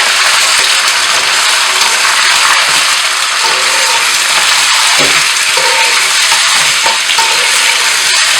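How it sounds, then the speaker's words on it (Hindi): Mutton sizzling loudly in hot ghee in a karahi over high heat for a Peshawari charsi mutton karahi, a steady dense crackle with occasional stirring scrapes and clinks throughout, no talking. "इसे हम 2-3 मिनट के लिए तेज़ आंच पे भूनेंगे, ताकि थोड़ा सा इसका कलर चेंज हो जाए।"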